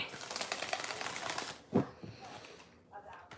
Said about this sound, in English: Will you watch me shuffle the cards